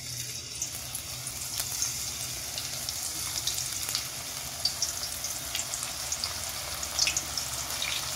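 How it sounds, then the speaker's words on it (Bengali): Banana pieces fry in hot oil in a wok, an even bubbling sizzle with scattered small pops and splashy crackles, close by and without voices. "আমার তেলটা গরম হয়ে গেছে, এবার কড়ায় এক এক করে কলার পিসগুলো দিয়ে দেবো।"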